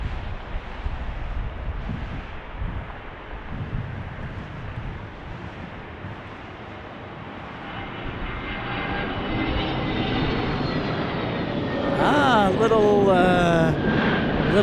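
A Frontier airliner arriving from Houston Intercontinental lands at Las Vegas in a 20-knot crosswind: a broad, rising jet engine roar with wind buffeting the microphone, swelling louder and closer toward the end as the engine whine sweeps upward.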